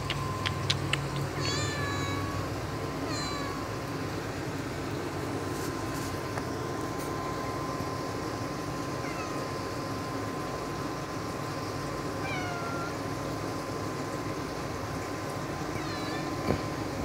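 Cats meow near and loud in a room: several sharp meows in quick succession at the start, then scattered meows and calls over a steady hum for the rest.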